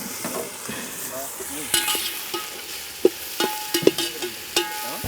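Mutton frying with ginger, garlic and chili powder in oil, a steady close sizzle with occasional sharper pops and clinks of stirring, no talk.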